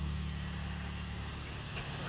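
The engine of a wrecked Honda car runs at a steady idle, a continuous low rumble close by with no talk over it.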